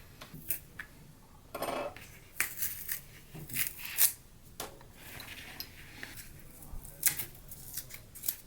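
Cutting and scraping into a foam Halloween gourd to carve a face: a string of short, quiet snips and rasping scrapes in an irregular rhythm, close by with no talking.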